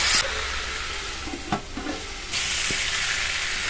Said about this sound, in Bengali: কুমড়োটা দিয়ে নেড়ে চেড়েই চাপা দিয়ে কষিয়ে নেবো সবজিটা লবণ আর হলুদ দিয়ে